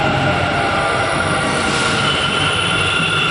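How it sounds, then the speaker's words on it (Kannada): A metro train at JP Nagar station in Bangalore rumbles loudly and steadily throughout, a dense continuous roar of wheels and carriages with a faint high squeal, close by and with no talking. "ಇವಾಗ ಫಸ್ಟು ನಾವು ಯಾವುದಿದು JP ನಗರ್ ಮೆಟ್ರೋ ಸ್ಟೇಷನಲ್ಲಿ ಕೂತ್ಕೊಂಡಿದ್ದೀವಿ ಗೈಸ್"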